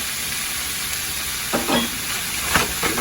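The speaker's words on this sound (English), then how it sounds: "Let's give it a mix. Let's mix it up very well." Egg noodles fry with a steady, bright sizzle in a single pan as chicken lo mein cooks, while a few scraping stirs sound near the end.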